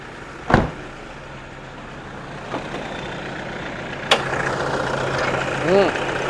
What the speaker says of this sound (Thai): เราสตาร์ทเครื่องให้เบิ่งบัด เครื่องฟิตสตาร์ทติดง่าย